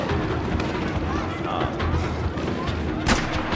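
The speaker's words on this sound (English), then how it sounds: "Oh shit, who's shooting at me?" Gunfire from a video game crackles in a dense, continuous clamor, with one sharper, brighter report standing out near the end over a steady rumble of background noise.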